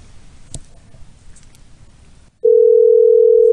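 A telephone dial tone starts abruptly after a short stretch of faint handling noise and holds steady, loud and continuous, as a call back is placed.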